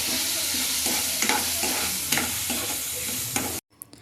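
Kashmiri chicken masala fries in a pan while being stirred, a steady loud sizzle broken by repeated scraping strokes of the spoon, ending abruptly.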